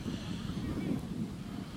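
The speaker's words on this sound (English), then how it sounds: "there you see a good illustration of how windy it is out here at Manning Field" Steady wind buffeting the microphone at Manning Field stadium during a high school sectional final football game, a continuous low rumbling roar throughout.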